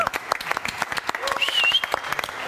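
Studio audience at a German film show applauding a performer after a song, loud dense clapping with a brief whistle rising above it partway through.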